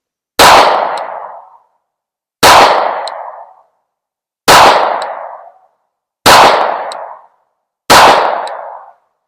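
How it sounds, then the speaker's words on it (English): Five loud pistol shots from a handgun fitted with a red dot sight, evenly spaced about two seconds apart, each a sharp crack with a short decaying ring, no talking between them. "All right, here we go. 5 shots."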